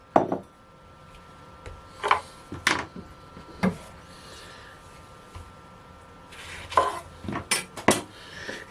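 A metal cooking pot is handled while sugar goes in to make syrup: sharp clanks and knocks of metal on metal, spread irregularly with short pauses, close by and fairly loud against a quiet kitchen.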